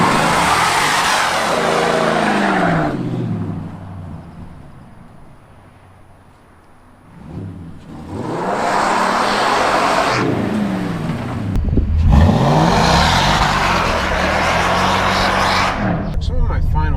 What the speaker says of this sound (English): whenever you drive his truck, you have to do a burnout